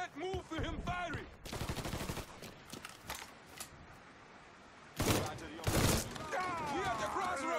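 Gunfire in the video game Mafia 3 comes as rapid automatic bursts and single shots, loud and close, with shouting voices heard between the volleys.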